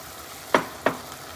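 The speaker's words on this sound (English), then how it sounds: "I'm going to put my flame on high and add my 1 cup of red wine" Red wine poured into a hot pan for chicken bog sizzles in two short, sharp bursts a fraction of a second apart, fading quickly over a quiet background.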